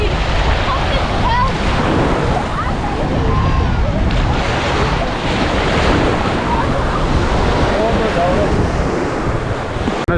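Waves and wind on a crowded beach at Empuriabrava on Spain's Costa Brava make a loud, constant wash of surf, buffeted by gusts against the microphone.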